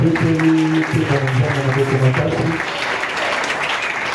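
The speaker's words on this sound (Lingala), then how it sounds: "Acclamons très fort, gloire à Dieu." A church congregation applauds loudly and steadily for a few seconds while voices call out over the clapping, and the applause then fades slightly toward the end.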